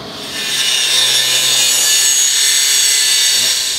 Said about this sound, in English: next thing I do is use an angle grinder to cut this around the curve of the pipe here